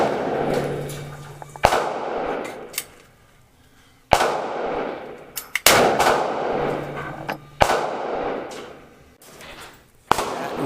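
A Ruger Redhawk revolver fires Buffalo Bore .45 Colt rounds at an outdoor range, five sharp loud shots spaced a second or two apart, each followed by a ringing echoing decay.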